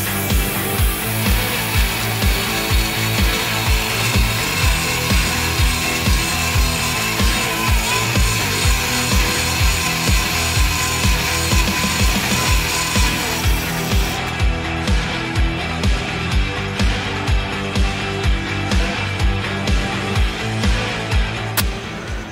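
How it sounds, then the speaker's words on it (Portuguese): Power drill boring through a porcelain tile countertop, a loud continuous grinding whine with a regular rhythmic pulsing throughout, close up and alone with no talk. "Agora eu vou furar com a outra."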